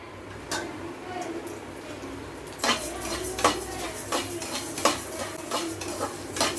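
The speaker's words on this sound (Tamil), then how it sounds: "அந்த மல்லியை நல்லா வறுத்துக்கலாம்" Coriander seeds roasting in coconut oil for Kumbakonam sambar powder: a near-quiet start with one faint click, then lively close stirring with a metal spoon scraping and rattling in the pan over a light sizzle.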